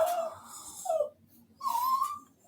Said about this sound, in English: The dog is whining.